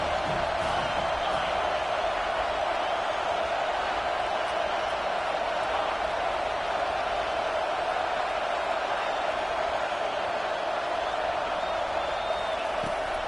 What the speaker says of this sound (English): this crowd really affecting the football game